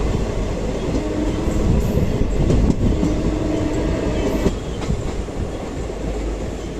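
A passenger train from Hyderabad to Kolkata runs through a station without stopping, a loud, steady rumble with rhythmic clickety-clack of wheels on the rails throughout.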